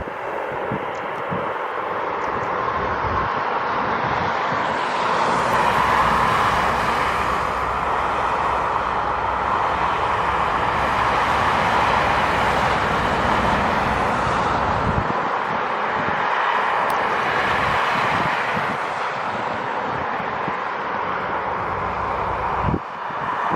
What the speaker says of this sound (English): so the noise I'm hearing I think is from the helicopters.